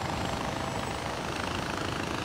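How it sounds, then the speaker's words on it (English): A helicopter in the video game Far Cry 4 gives off a steady, loud rotor and engine roar that fills the whole stretch without a break. "I was getting on my chopper."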